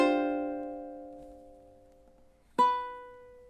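Ukulele playing measure 10 of a song, a strummed chord left to ring and fade, then a second sharp strum near the end, quiet and close.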